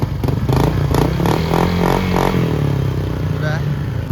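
A motorcycle fitted with a 4ROAD exhaust pipe revving close by for a sound check, a loud rising and falling engine roar with rhythmic pulses, and a voice talking over it.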